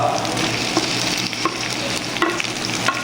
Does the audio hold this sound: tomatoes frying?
yes